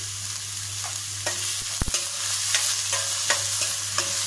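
Spices and salt for chana masala fry in a pan with a steady broadband sizzle, broken by several sharp scrapes and knocks of a stirring utensil, close and moderately loud, with no talking.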